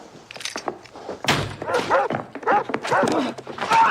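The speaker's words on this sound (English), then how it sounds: "That dog is loose." A loose dog barks and yips repeatedly in sharp, close bursts with some whimpering, loud and irregular over a few seconds.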